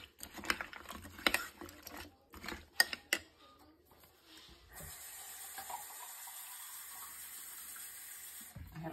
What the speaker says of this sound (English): I think we could afford another can of water in here.